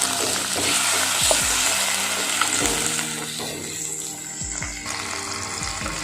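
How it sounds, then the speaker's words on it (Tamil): Onion and tomato sautéing in a pan for an okra tamarind curry made without coconut, giving a loud continuous close sizzle with spatula scrapes and stirring sounds throughout. "தக்காளி சேர்த்துட்டு நம்ம நல்லா வதக்கிடலாம்."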